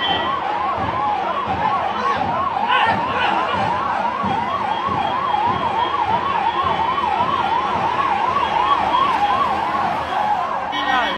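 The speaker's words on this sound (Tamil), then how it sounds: "ஸோ அந்த ஆம்புலன்ஸ் வருது, கூட்டமெல்லாம் அப்படி ஒதுங்குறான்" An ambulance siren wails in a fast, steady up-and-down cycle, loud and continuous, as a street crowd makes way for it.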